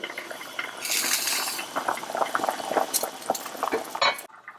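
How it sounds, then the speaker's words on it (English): Pot of ox bone soup coming to a boil on low heat, a close bubbling and gurgling with liquid splashes and occasional clinks of a utensil against the pot, ending abruptly. "After 1 hour of cooking the soup on low heat, it has started to boil."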